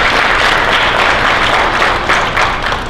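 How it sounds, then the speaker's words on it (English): Dense, steady applause from an audience at a police academy graduation, honouring the graduates' families, a loud continuous wash of clapping filling the whole stretch without letup. "giving your family a round of applause"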